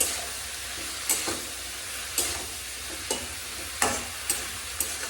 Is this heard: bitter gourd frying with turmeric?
yes